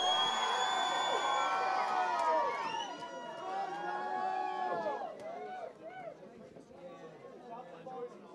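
At a fight night, an indoor crowd cheers for the blue corner fighter with loud whoops, shouts and excited chatter that swell at first and then slowly fade away.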